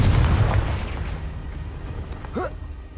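A Confringo blasting-curse explosion from Hogwarts Legacy hits with a heavy low boom at the start, then rumbles and fades, with a brief rising whoosh near the end.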